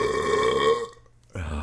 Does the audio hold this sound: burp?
yes